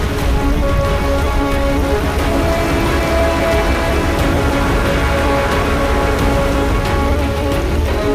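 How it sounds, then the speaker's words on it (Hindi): Heavy monsoon rain on an Indonesian island, a dense steady downpour hissing and pattering loudly on surfaces without pause. "ये भारी बारिश अब अगले 6 महीने तक आती जाती रहेगी।"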